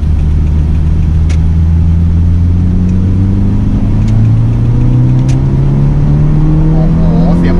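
A Toyota MR2 AW11 mid-engine sports car revs loudly and close by, its engine note climbing steadily in pitch as it accelerates, with no talk over it.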